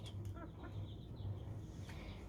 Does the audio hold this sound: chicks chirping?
yes